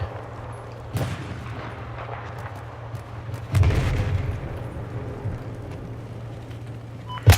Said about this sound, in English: See if people are shooting at you.